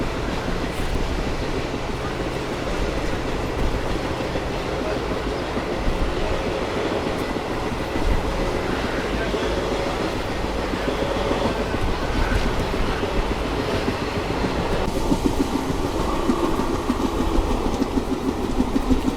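Passenger train on the Mysore to Chamarajanagar line, a continuous rumble and rattle of wheels on rails heard from inside the moving train, steady and loud throughout.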